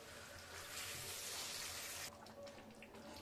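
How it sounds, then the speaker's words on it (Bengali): A little water poured from a tap or jug into a pan of potato curry cooked in oil, a steady close rush of running water that stops abruptly partway, leaving a quieter hiss behind. "এবার দিয়ে দিব জল।"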